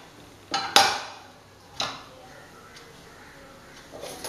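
A pressure cooker of rice is opened slowly in a kitchen: a few sharp metallic clanks of the lid against the pot, then quieter handling sounds. Low talking sits in the background.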